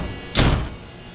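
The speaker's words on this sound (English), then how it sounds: "You can shut your door." A door on a Can-Am Maverick X3 four-door side-by-side shuts with a single solid thunk, close and alone.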